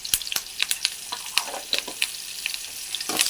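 Curry leaves crackle and sizzle in hot oil while tempered rice is prepared, giving sharp, close pops and spits over a soft frying hiss, with no voices.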